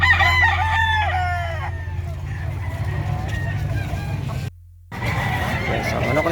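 At a livestock market in San Carlos City selling fighting cocks, a rooster crows loudly and close at the start, then other birds and scattered voices carry on over a steady low hum.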